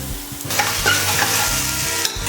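Garam masala and ground spices fry and crackle loudly in a pan as a spoon stirs them with scraping sweeps, a dense sizzle with no talking.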